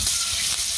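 Hilsa fish fries in hot oil in a wok, a loud, continuous bright sizzle and hiss heard up close without talk.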